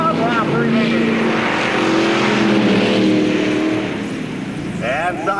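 Dirt track race cars at Knox County Raceway roar around the oval near the end of a race, engines droning and shifting in pitch as cars pass, under a loud announcer's running commentary.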